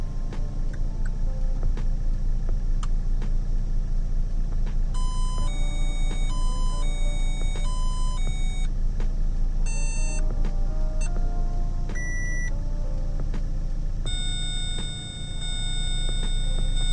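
Car immobilizer sound test triggered from an OBD2 device, a series of electronic beeps and tones at irregular intervals over a constant low engine-like hum, fairly loud and close.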